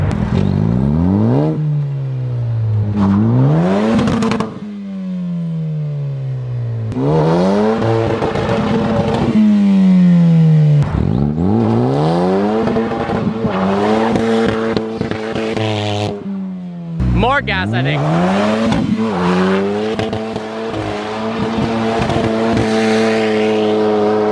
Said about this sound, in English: So if I drop the clutch and spin it, will it spin both wheels or one?